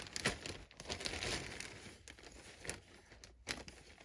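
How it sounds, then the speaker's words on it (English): Paper leaves cut for a snowman ornament craft, rustled and crinkled inside a large bag, soft close-up crumpling and light rustling bursts that stay faint throughout. "So I just keep a large bag of cut leaves."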